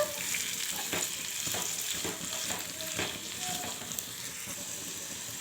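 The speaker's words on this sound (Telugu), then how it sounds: "ఇప్పుడు ఇందులోనే కొద్దిగా పసుపు సాల్ట్ వేసేసుకుందాము ఇప్పుడు చక్కగా మొత్తం కలిపేసుకుందాము" Curry with turmeric and salt stirred in a hot pan, a continuous sizzle broken by repeated scraping strokes of the spoon at an irregular rhythm, close and fairly loud.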